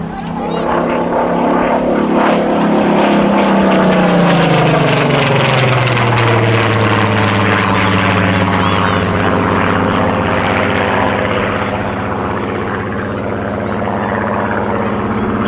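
A Supermarine Spitfire's Griffon propeller engine drones loudly and steadily at an air festival, its pitch sliding lower as the plane flies past, with voices talking underneath.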